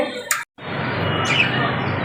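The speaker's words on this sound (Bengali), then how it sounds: "এই যে আমার পাখিরা" Pet birds on a balcony give a few short chirps over a steady, noisy background hiss.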